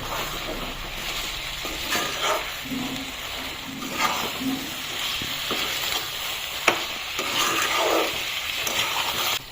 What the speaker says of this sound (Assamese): এইখিনি প্ৰথমতে ধুনীয়াকৈ মাংসৰ লগত অলপ টাইম ভাজি ল'ম।